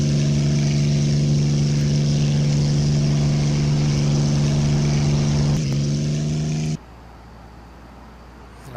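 A Messerschmitt Bf-109 fighter's engine runs at full throttle in a flight simulator, a loud, steady, droning roar with strong harmonic tones that cuts off abruptly, leaving a quiet low hum.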